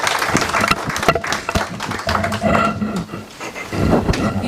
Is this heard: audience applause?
yes